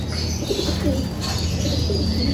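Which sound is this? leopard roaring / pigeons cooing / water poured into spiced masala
pigeons cooing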